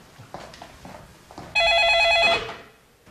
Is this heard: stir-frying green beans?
no